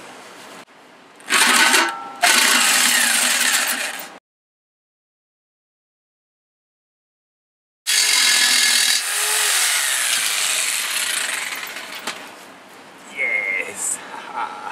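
Power tool cutting through a steel gas bottle being made into a hang drum, a harsh grinding whine in two bursts separated by a few seconds of silence, close and loud, with a brief voice near the end.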